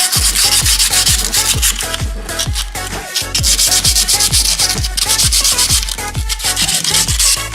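Rapid back-and-forth scrubbing on the centre of a Peugeot 206 1.4 HDi brake disc, loud and close, a dense rhythmic rasp of quick strokes with brief pauses and no talking.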